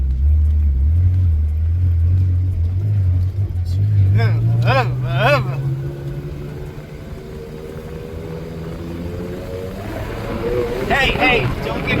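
A car pulls away in first gear in low range, its engine note climbing steadily from a low rumble. People talk over it in the cab throughout.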